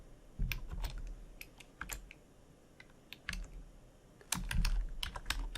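Typing on a computer keyboard, scattered close key clicks in short irregular bursts, quiet and alone without talking.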